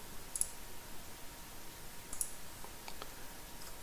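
Two or three faint, crisp mouse clicks land sparsely on a near-silent background as a shopper navigates an online store's storefront.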